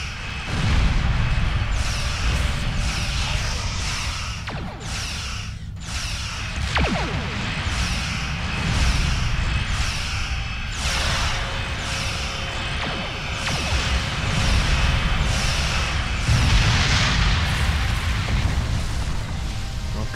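Explosions from a Star Trek Online space battle against a Gorn refinery rumble and boom repeatedly over a steady engine drone, with whooshing bursts scattered throughout and game voices in the mix.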